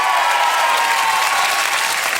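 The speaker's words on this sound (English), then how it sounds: "A round of applause for Paige." Loud, close studio applause from a TV talent show audience, a dense, continuous burst of clapping with no voices breaking through.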